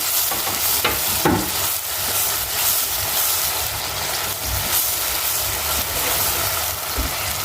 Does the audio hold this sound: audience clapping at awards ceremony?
no